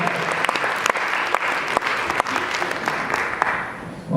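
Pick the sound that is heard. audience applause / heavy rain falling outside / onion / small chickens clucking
audience applause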